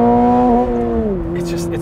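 A 2022 Subaru BRZ engine revs high after a downshift into second gear, a loud sustained tone that drops in pitch partway through and holds steady, with faint talk at the end.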